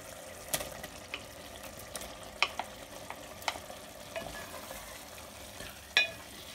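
Minced meat keema with tomato paste and spices frying in a pot for an aloo keema dish, a low sizzle broken by scattered scraping clicks of stirring, with one sharper clatter near the end.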